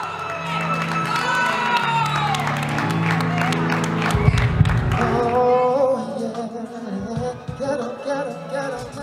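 An audience cheers, whoops and applauds for a singer, with shouts and clapping building over music and then thinning out toward the end.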